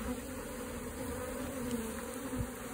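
Bees buzz steadily around a wooden bait hive box being moved, a continuous close, even drone of many insects with no speech.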